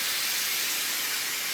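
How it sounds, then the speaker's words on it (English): Steady continuous hiss of canola oil cooking spray being sprayed onto gnocchi outdoors, close and loud, unbroken for the whole moment with no talking. "the recipe says to spray the gnocchi as well"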